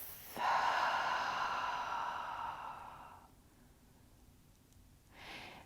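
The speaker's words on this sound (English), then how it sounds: "Deep breath." Deep yoga breath during an ankle stretch, one long breathy exhale lasting about three seconds, close and fairly loud, followed by a quieter second breath after a pause.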